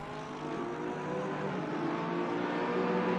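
A Porsche GT3 race car in a racing game pulls hard out of a hairpin, its engine note rising steadily in a continuous, moderately loud drone of acceleration with no talking over it.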